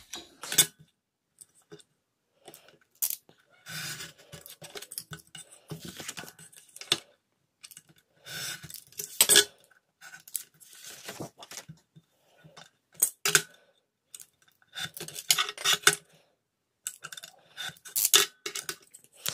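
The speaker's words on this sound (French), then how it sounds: "Je vais donc les découper, non pas avec ma paire de ciseaux, mais avec mon cutter" Utility knife blade scraping and cutting through labels on a glass cutting mat, in sharp irregular bursts of clicks and scratches separated by quiet pauses, close and fairly loud.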